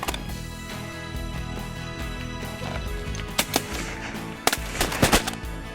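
Shotguns fire at ducks during a South Dakota hunt, a few sharp reports near the end over a steady outdoor rumble with honking waterfowl audible.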